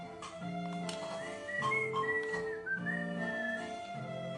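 Someone whistles a waltz tune, a steady melodic line of rising and falling notes over soft background music, close and clear, with no talking.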